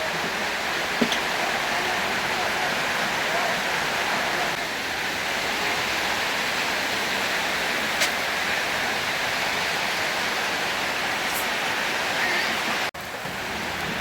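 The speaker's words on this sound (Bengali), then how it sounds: "পুষ্করণীর পানিও সমানে যেতেছে ঘরের লগে লগে।" Heavy rain pours and floodwater flows into a shop near Uttar Poiratola bus stand. The rushing water and rain make a loud, constant roar throughout, with a few faint knocks.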